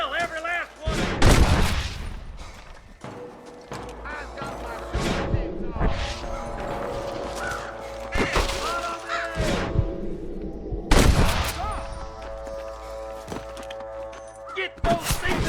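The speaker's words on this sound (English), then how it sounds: "I can hear more gunshots" Gunfire from Red Dead Redemption, several sharp bursts of shots and impacts scattered across the scene over music and game sounds, with voices speaking in places.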